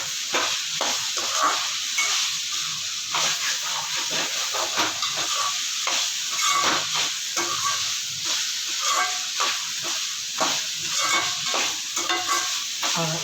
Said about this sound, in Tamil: இப்போ இந்த இஞ்சி பூண்டை போட்டு நல்லா வதக்கலாம்.